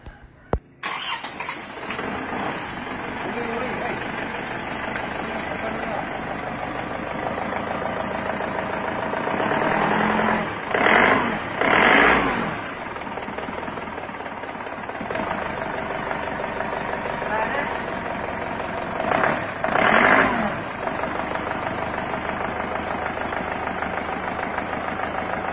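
Engine of an Isuzu Panther car after expensive part replacements and a new cylinder liner cranks and starts, then settles into a steady, nearby diesel-like idle with a few louder revving bursts.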